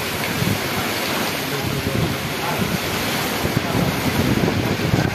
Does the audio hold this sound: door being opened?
no